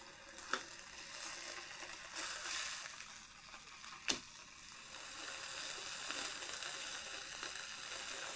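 Tuna steak sears quietly in a pan, a faint continuous sizzle with two sharp clicks or taps standing out against the low, even frying.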